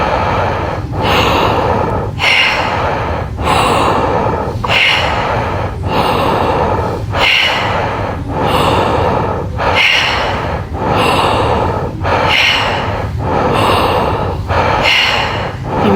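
Deep rhythmic breathwork through the nose and mouth, loud close inhales and exhales in a steady cycle of about eight full breaths, no speech.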